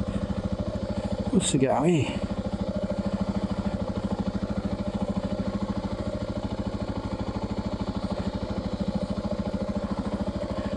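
A motorcycle engine idles steadily and close by after restarting from a stall, with a brief rise in revs near the start under a short spoken question, then a constant rhythmic putter to the end.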